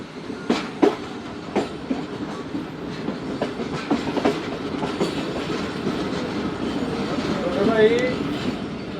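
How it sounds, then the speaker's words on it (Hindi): Karakoram Express passenger train rolling slowly through Godhra railway station, with a steady rumble and repeated wheel clatters over rail joints, a brief squeal near the end, and talk faintly underneath. "6:25 पर गोधरा रेलवे स्टेशन से पास हुई दोस्तों ट्रेन हमारी"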